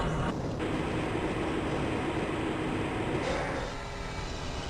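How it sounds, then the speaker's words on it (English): A tram in the game Half-Life: Blue Shift rolls steadily along its track in the Black Mesa facility, a continuous loud rumble with faint clatter and a slight shift near the end, with no talking. "This train is inbound from the Area 8 topside dormitories to the Central Transit Hub in Area 9."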